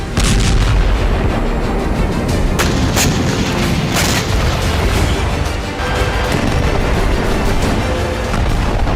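Israeli air strikes pound southern Gaza in a dense, continuous barrage of loud booms and blasts, the explosions overlapping into a heavy, rumbling roar with sharper cracks breaking through.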